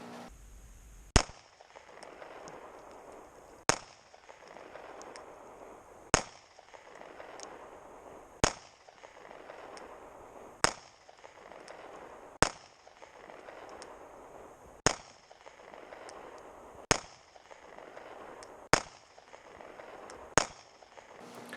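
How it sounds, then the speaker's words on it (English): Pistols fired during target shooting outdoors in snow, about nine sharp single cracks at regular intervals, sounding faint and distant with quiet background noise between them. "that's me shooting a couple of pistols"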